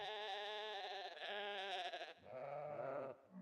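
Sheep bleat in a farm setting in Project Zomboid, two or three drawn-out, wavering bleats close by and fairly quiet, with no talking over them.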